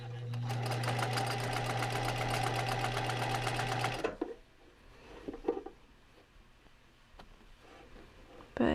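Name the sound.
sewing machine stitching fabric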